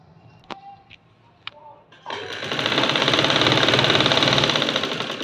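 A few faint clicks and short whirs, then an electric sewing machine starts up and runs steadily at speed, a loud, even mechanical buzz stitching a shalwar for a baby girl's outfit before slowing slightly at the end.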